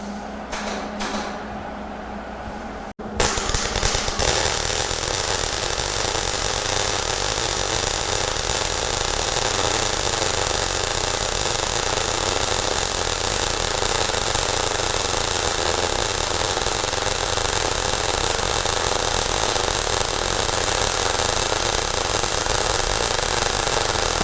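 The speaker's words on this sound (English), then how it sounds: "the last thing I want to show you is how easily you can start a weld with this welder" A Hobart Handler 140 MIG welder striking an arc and running a weld, with a quiet start and then an abrupt onset of loud, steady crackling hiss that continues unbroken to the end.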